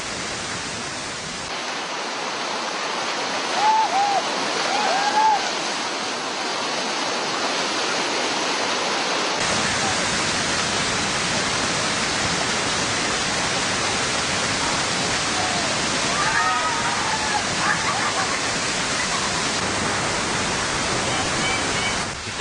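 River rapids at Jeram Kasai on Sungai Sedim, a waterfall-like drop run while rafting, roar as a loud, continuous broadband rush of churning white water throughout, with faint voices briefly audible under it.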